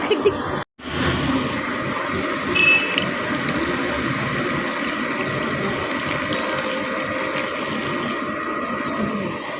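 Steady, loud rush of water gushing continuously from a borewell pump, with a brief dropout near the start, then an unbroken gushing flow.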